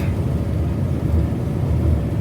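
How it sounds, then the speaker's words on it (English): Tractor hauling a fully loaded grain trailer of about 15 tonnes away from a harvest field, a steady low engine rumble holding constant and fairly close, with no talk over it. "tractor and trailer is off."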